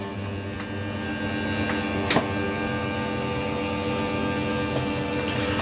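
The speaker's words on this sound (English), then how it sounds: "12-volt motor on this slide as well." A 12-volt electric motor drives a slide-out on a 2022 Dutchmen Voltage 3635 toy hauler fifth wheel, giving a steady near, even whine and hum with a brief click partway through.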